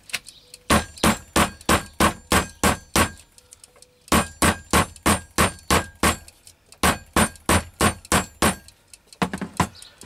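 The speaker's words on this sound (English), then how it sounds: "sorry about the banging" Hammer blows flatten a metal gundog accessory in close, loud bursts of rapid ringing clangs. Each run has about eight or nine strikes, with brief pauses between the runs.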